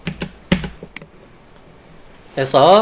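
A few crisp computer keyboard key presses tap out near the start, as the Alt and O shortcut is pressed, followed by a pause and then a person speaking.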